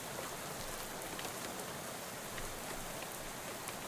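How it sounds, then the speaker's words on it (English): Rain spatters on a bus window in the video game Shadows Over Loathing, a steady, soft, even hiss with fine pattering drops throughout and no voices. "soon you're dozing off to the sound of rain spattering on the window beside you"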